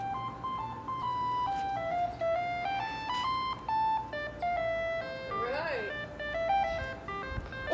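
An ice cream truck jingle played through a phone speaker, a tinny electronic melody of short stepping notes that runs continuously in the foreground, with a voice talking over it at times.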